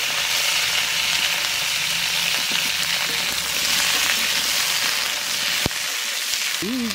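Cauliflower fries in oil in a wok with a steady, loud sizzle. Near the end, a sharp knock breaks it, followed by a short, faint sound.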